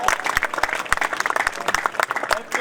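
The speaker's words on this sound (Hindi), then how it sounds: "जोरदार तालियां बजाएं।" A poetry gathering audience at a kavi sammelan breaks into loud applause, rapid overlapping claps with sharp individual hand strikes popping out close by, sustained and energetic for the whole stretch.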